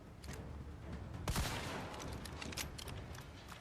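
Video game weapons firing in a showcase, including a submachine gun, with a burst of sharp shots near the middle over a steady noisy background.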